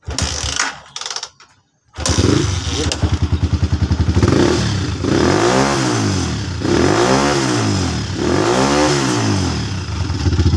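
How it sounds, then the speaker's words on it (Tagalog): A stalled motorcycle's engine sputters, catches and starts, then revs up and down repeatedly in loud, rising and falling surges. "tatlong bagay lang yan para mapaandar yung motor"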